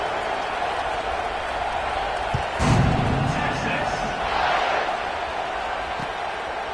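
Football stadium crowd at an Oregon vs Texas game cheering and roaring, a steady broad wash of noise that swells briefly in the middle and again near the end.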